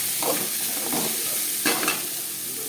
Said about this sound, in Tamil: இதில் நம்ம எடுத்து வச்சிருக்கிற பீன்ஸு, கேரட்டு, பச்சை மிளகாய் எல்லாம் போட்டு என்ன செய்கிறோம், நல்லா வணக்குறோம்